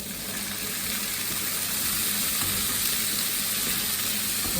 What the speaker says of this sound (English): And we're gonna add our peas.